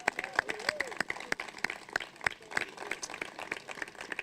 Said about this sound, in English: if you will, another round of applause